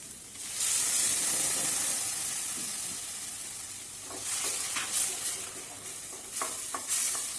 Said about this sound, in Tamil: இப்போது 2 பெரிய தக்காளியை நம்ம அரைச்சி விழுதாக எடுத்து வச்சுருக்கோம் இல்லையா, அதை இந்த மிக்ஸோடு நம்ம ஆட் பண்ணிக்க போகிறோம்.